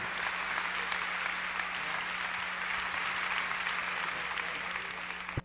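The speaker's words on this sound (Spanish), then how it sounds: "Denle un aplauso al Señor bien fuerte" Steady, dense applause from a church congregation, loud and sustained for several seconds with a faint hum underneath, ending abruptly.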